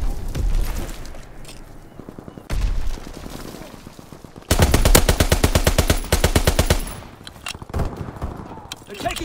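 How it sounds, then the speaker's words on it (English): Call of Duty: WWII multiplayer match with bursts of rapid automatic gunfire and dense machine-gun rattles, loud and close, mixed with in-game callouts and shouted voices. "Taking fire!"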